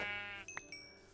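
A single short sheep bleat from Minecraft (Feed The Beast), close and clear, followed by faint tinkling chime-like game tones.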